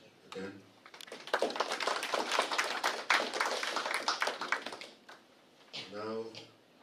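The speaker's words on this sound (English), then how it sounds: "let's give him a round of applause again" Audience applause at a Micronesia Clean Up Day award ceremony, a sustained burst of many hands clapping for about four seconds, framed by a voice speaking just before and after.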